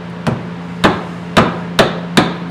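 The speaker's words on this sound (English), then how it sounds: "Slowly start hammering." A hammer drives a lifter onto the end of a pushrod in five sharp, loud metallic strikes, spaced about half a second apart, with a faint steady hum underneath.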